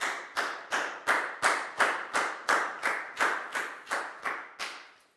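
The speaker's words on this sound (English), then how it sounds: "High five and a big round of applause for Dan, please, guys." In a Year 4 maths classroom, a round of applause comes as about fourteen sharp, evenly spaced claps in a slow, steady rhythm, close and clear with quiet between each one.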